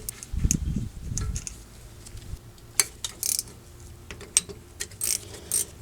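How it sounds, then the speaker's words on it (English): A ratcheting wrench loosening the rear brake caliper bolts on a 2001 Chevy Silverado 1500 4x4, heard as a few low clunks followed by sharp, irregular bursts of ratchet clicks close by, with no voices. "I'm just going to use a ratcheting wrench on this."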